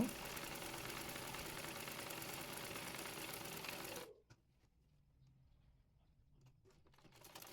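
A sewing machine stitches the gathered tier of a palazzo skirt, running in a steady close hum for about four seconds before stopping, followed by quiet handling sounds.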